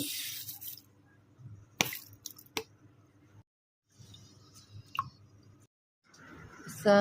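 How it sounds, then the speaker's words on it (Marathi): Wet squishing and dripping as a bowl of rice is rinsed clean in water for khandvi, close and quiet, with short splashy bursts separated by pauses. "एक वाटी तांदूळ घेतलाय आपण त्याला ना स्वच्छ धुवून घेऊ"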